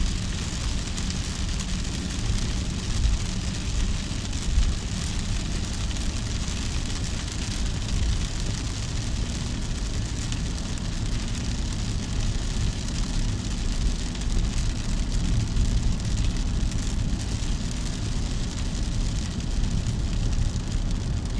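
Heavy rain pours down in a dense, unbroken hiss that stays steady and even from start to finish, with no voices.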